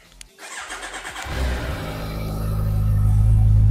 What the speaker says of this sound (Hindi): मैं आपको एग्जॉस्ट की स्टॉक की बात सुना देता हूँ